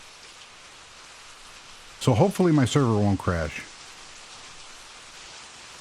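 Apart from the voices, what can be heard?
rain falling in Minetest video game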